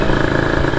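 A 2001 Kawasaki Ninja SS 150 two-stroke motorcycle engine running close by, a loud, dense, rattly idle with a fast steady pulse and no talk.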